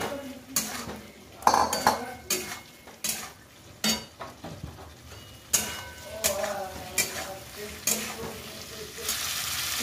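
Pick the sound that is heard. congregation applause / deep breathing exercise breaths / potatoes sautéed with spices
potatoes sautéed with spices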